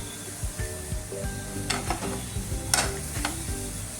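Sorghum noodles are stirred in hot oil with tempering spices, a quiet sizzle under repeated scraping strokes of a spoon against the pan, with a few sharper clinks.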